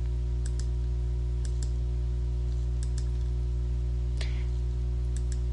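Sparse, light key presses on a calculator keyboard, a few crisp clicks spaced apart over a steady low hum, with no voices.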